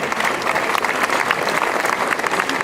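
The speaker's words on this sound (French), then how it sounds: "Et je crois qu'on peut l'applaudir." Audience at a museum inauguration in Saint-Andiol applauds a historian, steady dense clapping from a sizeable crowd held at even loudness throughout.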